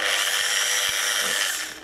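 A Michelin MOP300 300-watt electric polisher whirs steadily with a bright high-pitched motor hum, close and loud, tapering off briefly at the end.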